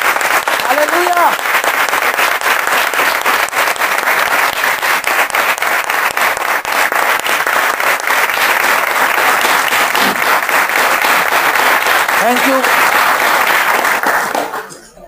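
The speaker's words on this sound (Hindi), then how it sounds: "आए हम यीशु मसीह और पाक रूह के लिए तालियां बजाएंगे।" Church congregation at a service clapping together in a dense, sustained round of applause that continues steadily for about fourteen seconds, with faint voices calling out beneath it before it fades.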